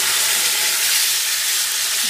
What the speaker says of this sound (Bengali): এখন আমি সব কিছু ভালো করে নেড়ে নেড়ে ভেজে নেব